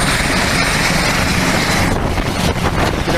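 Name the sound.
military helicopter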